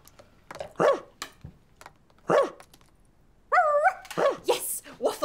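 A dog in a live-action children's show gives several sharp, close barks spaced apart, with a brief whiny, wavering yelp in between.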